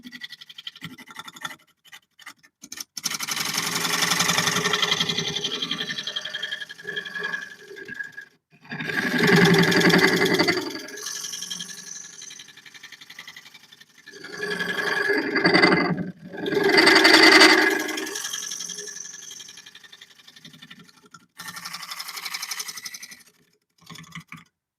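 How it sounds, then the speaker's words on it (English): A scraper cuts against a spinning olive wood bowl on a lathe, giving harsh buzzing scrapes in several bursts of a few seconds each, separated by near-silent pauses, loud and close with no talk. "I'm going to go in here and I'm going to scrape up these sides because they're looking kind of rough"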